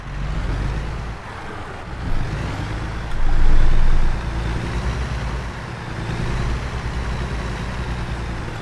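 A truck with a trailer reverses in American Truck Simulator, its steady engine drone low and continuous throughout, with a louder swell in the middle and no talk.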